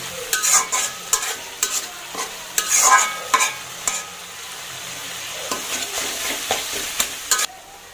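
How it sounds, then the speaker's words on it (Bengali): Masala fries in a pan while being stirred briskly, close and loud, with rhythmic scraping bursts and clatter over a light sizzle that settles into a steadier hiss toward the end. "মশলাটা ভালো করে কষিয়ে নেব।"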